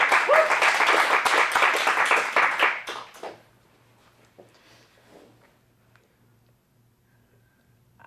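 A crowd applauds at an adult dramatic acting showcase, full clapping for about three seconds before it drops away to a few faint stray claps and near silence.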